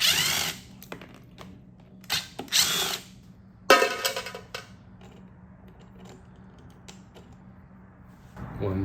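A power gun whirs in a few short, sharp bursts as bolts come out of the bridges on a J-type overdrive, followed by quieter clinks and handling noises of loose parts, then another brief whir at the end.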